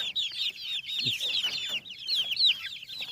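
Young chickens crowd close and cluck for food, with rapid overlapping chirpy clucks and calls in a busy, continuous chorus.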